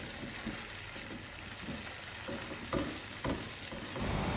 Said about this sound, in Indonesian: Di sini kita aduk lagi supaya tercampur